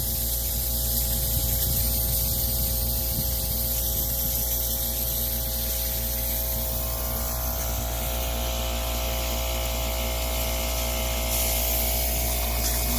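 Compressed air blows out a sprinkler system line during winterizing, a continuous hissing spray over a low steady hum, close and unbroken with no talking.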